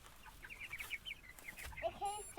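Four-week-old meat chickens cluck and chatter in quick, soft bursts, fairly close, with a few higher squawks toward the end.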